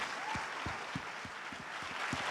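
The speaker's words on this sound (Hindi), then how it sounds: "Come on, give a clap offering to the Lord as you're going to clap it for Him." Congregation at a church gathering in Mumbai clapping together, a steady dense wash of applause with a few louder individual claps standing out, sustained throughout with no talking.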